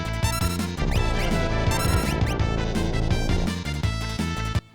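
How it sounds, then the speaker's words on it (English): Old Demi gravity spell from Final Fantasy VI, a dense, loud, warbling electronic effect with stacked pulsing tones and sweeping chirps, sustained for several seconds before cutting off abruptly. "The magic gravity, formerly known as Demi. It used to sound like this."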